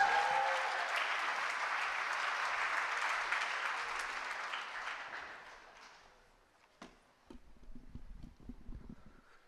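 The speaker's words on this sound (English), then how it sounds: "Please give Sky a warm round of applause." Audience at an annual New Year's Day marathon event gives an arriving artist a warm round of applause that holds steady for several seconds, then fades out into quieter scattered sounds.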